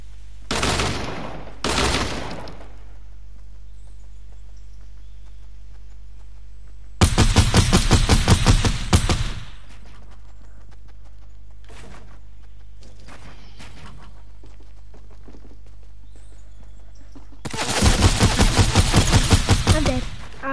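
Gunfire in the video game Fortnite comes in three loud bursts of rapid shots, each lasting two to three seconds. Long stretches of near-quiet with a steady low hum fall between them.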